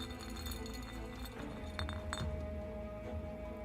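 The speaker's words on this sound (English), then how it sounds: "the sound of a glass container crashing to the ground suddenly comes from behind them" Glass clinking and chinking inside a video game scene, a few sharp bright taps over a low humming background, with no sign of a big shatter.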